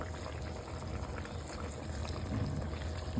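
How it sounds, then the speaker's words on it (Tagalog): Water poured into a pot of boiling adobong isaw, pork intestines simmering in adobo sauce, giving a steady close bubbling and splashing roar that swells slightly toward the end, with no talk. "O, syempre, magdadagdag tayo ng tubig."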